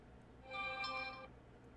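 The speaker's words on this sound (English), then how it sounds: "Phone is a ding-a-ling in here." A phone in Starfield gives a brief electronic ring, one bright tonal burst of just under a second over a quiet background hum.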